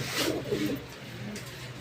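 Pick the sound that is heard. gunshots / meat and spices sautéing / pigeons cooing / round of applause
pigeons cooing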